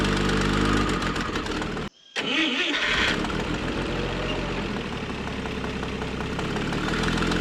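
A homemade four-wheel-drive forklift with a Slant Six engine and a shuttle shift transmission labouring under load, a loud steady rumbling roar that drops out for a moment and then resumes, straining without letting up.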